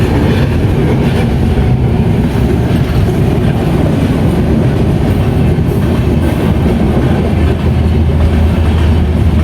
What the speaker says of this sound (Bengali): অনেক বড় ট্রেন।